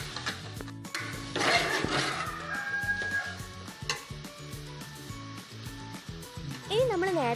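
Sliced onions sautéing in a pan for a chicken curry, with a steady soft sizzle and occasional stirring scrapes running throughout, close and moderately loud.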